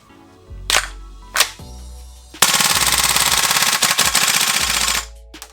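Umarex VFC HK MP7A1 gas blowback airsoft gun, loud and close: two single sharp cracks, then a sustained full-auto burst of rapid clattering shots lasting about three seconds before stopping abruptly.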